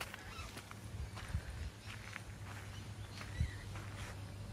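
Ducks in a commemorative Japanese garden in winter give two short, low honking calls a couple of seconds apart, faint against steady outdoor ambience.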